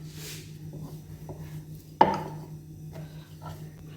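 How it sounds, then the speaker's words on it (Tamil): A sharp steel lid presses down through rolled chapati dough on a board, making one crisp tap midway that rings briefly over a faint, steady hum, with a few soft scrapes around it. "ஒரு ஷார்ப்பான மூடி வச்சு தான் கட் பண்ணுறேன்"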